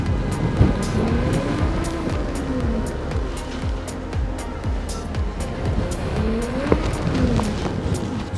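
A Begode EX.N high-torque electric unicycle accelerating hard, its motor whine rising and falling in repeated sweeps over loud rushing wind and road noise, close to the rider.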